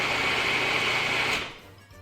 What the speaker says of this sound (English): I'm gonna turn on the food processor to chop up our peppers, onions, garlic mixture